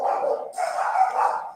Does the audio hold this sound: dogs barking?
yes